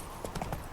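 Hooves of the horse in The Witcher 3 video game clop in a quick trotting rhythm, four or five close, crisp beats in under a second.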